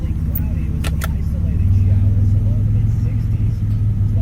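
A 1989 Buick V6 engine idles with a low, steady rumble, close by, while someone talks over it and a couple of brief clicks sound.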